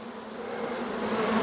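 Honey bees hum in a steady, close, continuous drone while a horizontal hive is opened for inspection, with no voices.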